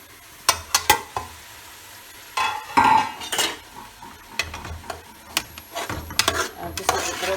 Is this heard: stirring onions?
yes